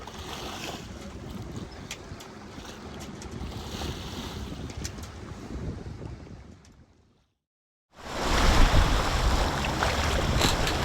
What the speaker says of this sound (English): You get a little wind. 11 knots of wind.